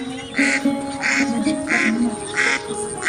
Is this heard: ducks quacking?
yes